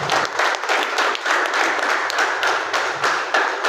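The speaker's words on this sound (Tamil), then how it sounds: "நல்ல ஒரு கைத்தட்டு கொடுப்பாங்க" An audience breaks into steady applause, many hands clapping densely and continuously at close range, with a faint murmur of voices underneath.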